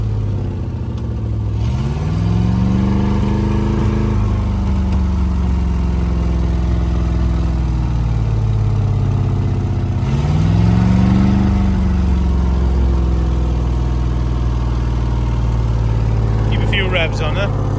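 An old abandoned armoured Land Rover's petrol engine idles loud and close on a hand throttle, holding a steady rough drone that rises and settles twice in revs.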